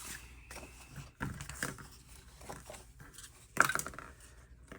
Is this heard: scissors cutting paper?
yes